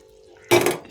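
Poori potato masala being stirred in a pan, a sudden loud burst of scraping and bubbling that starts halfway through after a quiet hum and carries on to the end.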